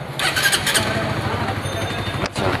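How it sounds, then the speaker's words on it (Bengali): A motorcycle engine cranking and catching after repair work, a loud, close squealing whine lasting a couple of seconds with a brief drop near the end. "আমরা গাড়িটা স্টার্ট করবো সামনের দিকে, এদিকে"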